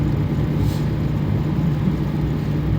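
A car drives along a road on the way home, a steady low engine and road rumble heard from inside the vehicle, constant and fairly loud with no voices.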